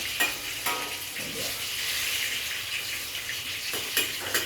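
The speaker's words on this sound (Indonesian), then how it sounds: "di ledong itu sangat terkenal goreng gorpis pulut namanya, goreng pisang pulut." Sticky rice banana fritters sizzle in hot oil, a steady crackling fry punctuated by a few sharper spits and stirring bursts, close up with no voices.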